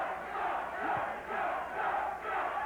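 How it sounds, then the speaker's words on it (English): Fans at a WBA championship boxing match between Jeff Chandler and Oscar Muniz cheer and chant for Muniz between rounds, a dense crowd roar that swells and dips in waves. "Now they're cheering for Oscar Muniz."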